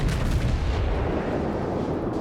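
Naval gunfire from a warship in World of Warships, a single heavy boom with a deep rumbling tail that fills the short moment loudly before slowly fading.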